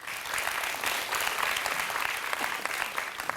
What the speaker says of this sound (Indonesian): terima kasih, tepuk tangan Prof Bagir